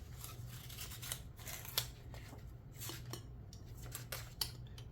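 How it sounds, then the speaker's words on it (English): A palette knife slices around the glued edges of a watercolor block, freeing the painted sheet with close, scratchy paper-cutting strokes and small tearing ticks over a steady low hum; no one speaks. "So you just use a palette knife, go around the edges."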